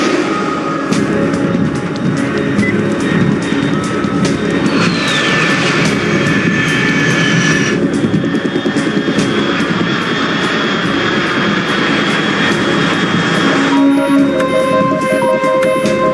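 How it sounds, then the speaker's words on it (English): A jet aircraft engine roars loudly and continuously in Metal Gear Solid 3: Snake Eater, with a high whine that sweeps and shifts partway through, heard alone with no voices. "Unidentified aircraft detected."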